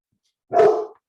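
Dogs give a single short, loud bark close by, a sharp burst that fades within half a second in an otherwise quiet room.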